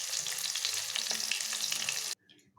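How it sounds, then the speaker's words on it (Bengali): Pieces of aar fish frying in oil in a pan, a bright continuous sizzle with small crackles, close and steady, cutting off abruptly into near silence. "মাছগুলো ভাজা হয়ে গেছে"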